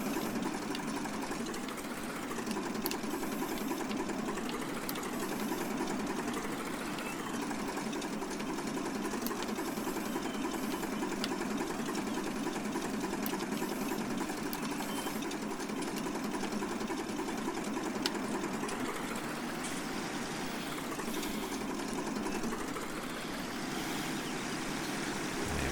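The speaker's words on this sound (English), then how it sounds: "To see if the engine's still running." A vehicle engine in the Farming Simulator 19 video game runs with a steady, loud mechanical drone that holds unbroken for the whole stretch, with no talking over it.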